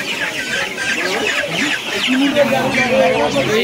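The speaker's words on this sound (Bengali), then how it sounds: "এইগুলো আছে সোনালি মুরগি আর মোরগ আছে" Several chickens and roosters cluck and chatter nearby in a busy, continuous stream at a poultry market in Uluberia, with people talking faintly in the background.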